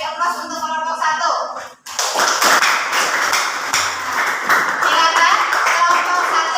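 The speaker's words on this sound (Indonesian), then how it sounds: "Sekarang kita beri aplaus untuk kelompok 1." A voice speaks in a classroom, then a group of students breaks into sustained applause for a presenting group, the dense clapping running loud and even to the end.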